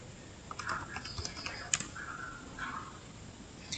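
Keys clicking on a computer keyboard while a command is entered, with several light taps and a firmer press near the middle of the clip, close and quiet with no talking.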